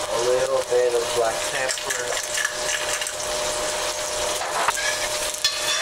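Salmon sizzling in a pan with butter, with a pinch of thyme added, gives a steady frying hiss that runs the whole way under continuous talking.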